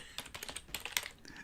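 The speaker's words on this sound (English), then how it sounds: "Sorry about my slow typing." Slow, uneven clicks of keys on a computer keyboard, several separate taps close by and faint, with no talk.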